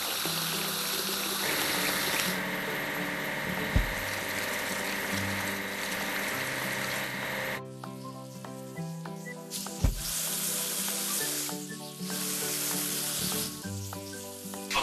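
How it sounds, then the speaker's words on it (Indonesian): Spraying water washes a log loader in a children's construction video game, a steady hissing rush that carries on continuously alongside bright game music with a few soft thumps, and no one talking. "Ayo cuci mesin pengangkut kayu."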